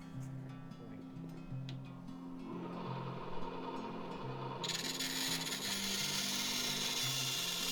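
Bandsaw cutting a small square from a wood blank for a layered ring, a low grinding hum that rises into a loud, shrill, continuous squeal partway through.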